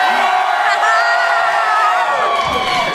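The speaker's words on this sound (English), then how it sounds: "Yells for Princess Luna." Convention fans at a princess panel roar with cheers and whoops for Princess Luna, a dense, loud crowd of shouting voices that holds steady and then swells near the end.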